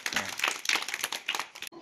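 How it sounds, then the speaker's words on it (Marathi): Children in a classroom clap together for a classmate, a brief dense burst of applause filling the moment, with a voice speaking over it. "टाळ्या वाजवा तिला."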